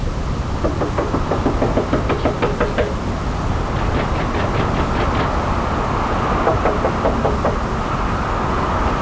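Someone raps on a door in quick clusters of sharp knocks, three separate rounds of rapid beats with pauses between, loud and close over a constant rumbling background noise.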